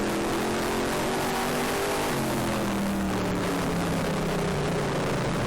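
Race car engine droning steadily on the oval at Flamboro during the final lap, the tone sliding gradually lower and wind noise rushing over it, close and continuous with no talking.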